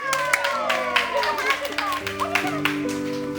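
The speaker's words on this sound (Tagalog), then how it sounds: "Palakpak naman sa ating birthday celebrant!" Hands clap along for a birthday celebrant at an SUV trunk surprise party outdoors, a brisk scattered patter beneath cheerful chatter and a voice, with sung or held tones running through.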